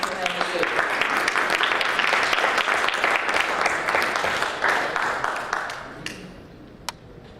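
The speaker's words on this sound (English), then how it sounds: "everybody please give a round of applause for Dr. Sohail Masood" A conference audience applauds a speaker being welcomed to the stage, a loud sustained wash of clapping that thins out toward the end, leaving a few scattered claps.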